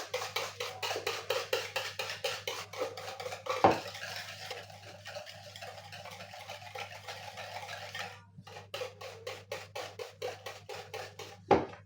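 Yogurt being stirred into cocoa cake batter, a steady run of quick rhythmic spoon strokes against a bowl, close and moderately loud, with a brief pause midway before the stirring resumes.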